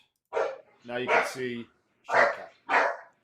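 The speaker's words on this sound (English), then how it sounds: "That's my dog." A pet dog barks several times in short, loud bursts indoors, close by, interrupting people talking during an online astronomy Q&A.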